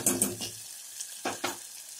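Ginger, garlic and green chili paste being stirred in a hot pan for a Maharashtrian black-eyed pea usal, with a few short scraping strokes and a soft sizzle, close and fairly quiet.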